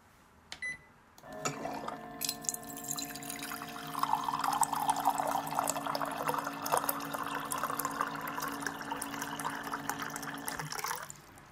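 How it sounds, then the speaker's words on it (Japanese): Hot water pours from a thermos pot into a cup at a workplace: a short beep, then a steady stream rising in pitch as the cup fills, close and clear, stopping abruptly near the end. "職場で仕事が始まる前にポットからコップにお湯を入れてる音です"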